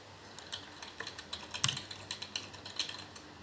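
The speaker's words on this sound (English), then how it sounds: "Excuse my typing." Close, crisp keyboard typing, a quick irregular run of clicks with one louder clack midway.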